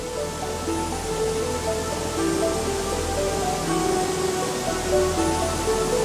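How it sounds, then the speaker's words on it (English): A steady, broad roar of a waterfall in southern Iceland fills the air continuously, with faint tonal murmurs blended beneath the rush. "The wall of relentlessly plunging water looks like a vast white curtain."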